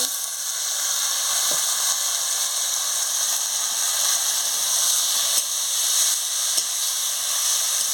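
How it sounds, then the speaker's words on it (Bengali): Vegetables hit a pan of fried spices with a steady, close sizzle and hiss, broken by a few faint clicks of stirring. The dish is a lightly spiced singhi fish curry. "মশলাটা ভাজা হয়ে গেছে না আনাজটা দিয়ে দিচ্ছি"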